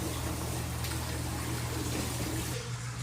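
Running water rinses soap off a dog during a bath at a pet wash station, a continuous close hiss and splash with a low steady hum underneath, easing off slightly at the end, no voices.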